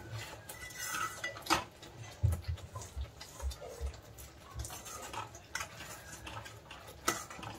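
A metal spoon scrapes and clinks against a cooking pot while chana palak paneer is stirred in oil, irregular knocks and clatters spaced over several seconds.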